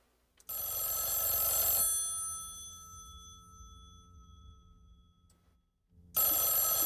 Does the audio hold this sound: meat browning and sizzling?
no